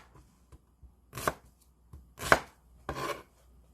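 A knife chopping half an onion for a Korean zucchini doenjang stew, three separate bursts of quick cuts against a board with quiet pauses between them, close and clear with no talk.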